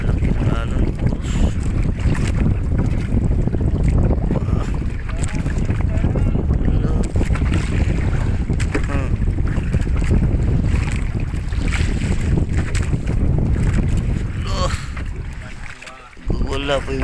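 Loud wind and rushing water from big sea waves surge around a fishing boat for a long stretch, a steady roar with buffeting gusts and brief voices near the end.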